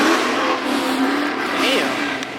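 An old-school Mercedes-Benz car engine revs at a car meet, rising and falling in pitch with steady engine noise and crowd ambience throughout.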